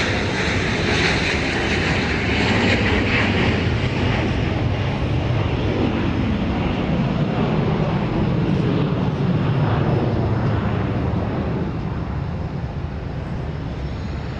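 A Flexjet business jet takes off at Dallas Love Field with a loud, broad roar that holds strong and steady throughout before easing slightly at the end.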